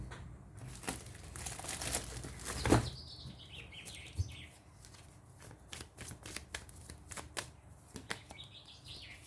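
Tarot cards shuffled and drawn by hand, with a string of soft riffling, flicking and papery crinkles. One sharper snap stands out near the start, and the rest is a scattered patter of close, quiet card handling.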